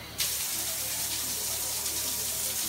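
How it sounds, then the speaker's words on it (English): Water starts suddenly and keeps pouring in a steady, full rush, close by, a shower running at strong pressure in a campground bathhouse at St. Andrews State Park, Florida. "we're about to check out the shower pressure"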